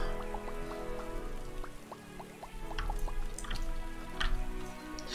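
Starbound's outdoor rain on a flower-biome planet: a steady, close patter of raindrops and drips over soft ambient game music, with no talking.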